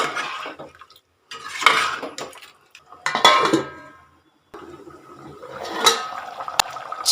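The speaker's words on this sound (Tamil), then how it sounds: "நல்லா கலந்து விட்டு மூடியை போட்டு வேக விடுவோம்." Chicken curry being stirred in a pot on the stove with a spoon, then a lid set on top, giving clattering metal scrapes and clanks in bursts with short pauses between.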